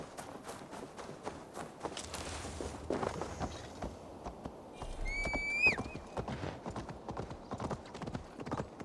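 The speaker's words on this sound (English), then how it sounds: "There's the horse." A horse in Assassin's Creed Valhalla clip-clops in a quick, steady hoofbeat rhythm, fairly quiet throughout, with a short whinny rising over the hoofbeats about midway.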